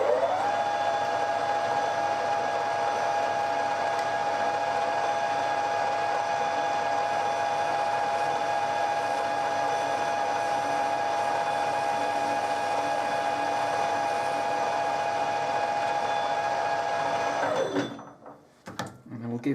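A metal lathe makes a final skim cut on a BSA B33 wheel spindle, producing a steady, loud whine with high pure tones that holds for most of the clip, then stops abruptly near the end.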